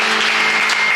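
A church congregation applauding in a steady, dense burst of clapping, loud and close, with no pauses.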